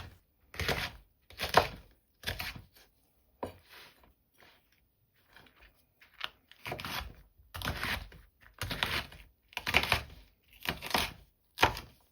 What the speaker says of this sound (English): Here I'm chopping the chilies and they will be transferred to a food processor.